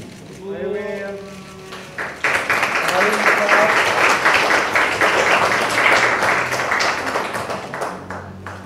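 An audience at a political event in East Java, where Perindo backs Khofifah and Emil Dardak for the 2024 gubernatorial race, bursts into sustained, dense applause after a brief voice, the clapping staying loud for several seconds.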